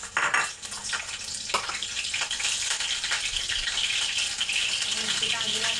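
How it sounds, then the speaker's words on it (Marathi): Green chillies dropped into hot oil in a pan send up a steady, bright sizzle that holds throughout, with a few clinks of utensil against metal near the start and faint talk in the background. "तर आपलं तेल गरम झालंय. आता तेलामध्ये मिरची टाकून घेते."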